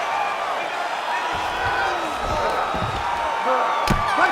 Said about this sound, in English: an appreciative crowd responding in kind